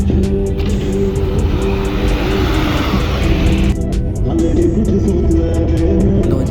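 A car driving along a road between Lahore and Chichawatni, with steady, loud engine and tyre roar throughout and a short run of rhythmic thumping over the road near the end.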